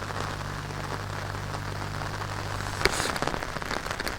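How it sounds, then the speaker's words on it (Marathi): Steady, dense rain pouring down close by, a continuous hiss with a low hum that stops partway, followed by sharper crackling patter. "पाऊस जोरात चालू झालाय."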